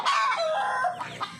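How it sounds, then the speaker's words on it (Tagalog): Laying hens on a farm give a close, loud burst of drawn-out clucks and squawks lasting under two seconds, with no talking over them. "So, nangingitlog yung mga manok natin ngayon."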